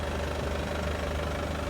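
A 2011 Chevrolet Lacetti Premiere 2.0 diesel with 194,000 km idles in a steady, even low rumble with slight knocking texture, close and alone.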